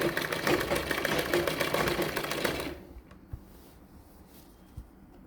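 A sewing machine stitching a saree border runs in a fast, dense mechanical rattle for a few seconds, then stops, leaving faint handling clicks and thumps.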